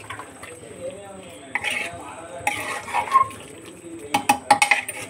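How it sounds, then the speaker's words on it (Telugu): A curry, its oil risen to the top, is stirred in a cooking pot by the speaker's mother, giving close scraping and clinking of the spoon against the pot in uneven bursts, with quiet voices underneath. "ఇప్పుడు మా అమ్మ తిప్పుతా ఉంది కర్రీని"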